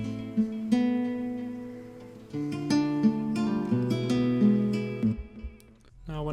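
A melody sample built in FL Studio, processed with EQ, reverb, stereo imaging and delay, plays as sustained tonal notes moving through a short phrase, spacious and lingering with echoing tails before fading out.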